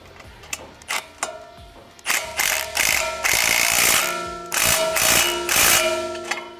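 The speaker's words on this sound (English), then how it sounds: "now you'll grab your 9/16 socket and wrench and tighten down the small bolt here" A socket wrench ratchets in quick clicking bursts while a small bolt is tightened on a Ford Bronco rear strut skid plate, with brief pauses between runs of close, loud pawl clicks.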